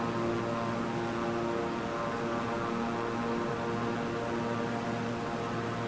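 Airplane engine in a video game flight simulator, a steady continuous propeller-like drone with a tonal hum, constant in level and with no talk.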